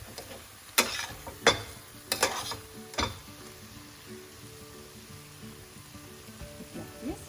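Eggplant and potato curry (vankaya mudda) fries quietly in a pan, its soft sizzle broken by a handful of sharp spoon scrapes and knocks early on, then a calmer, faint bubbling.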